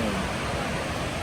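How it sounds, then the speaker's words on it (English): Waterfall in Norway: steady, loud broadband rushing of falling water, continuous and close with no breaks or voices. "Today I take you around waterfall in Norway."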